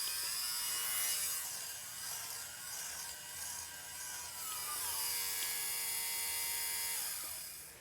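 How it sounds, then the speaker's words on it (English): A powerful electric fabric shaver runs continuously over clothing, removing fuzz balls with a steady high-pitched motor whine that shifts slightly in pitch as it moves across the fabric. "We have this shaver here, which I got. Super powerful shaver,"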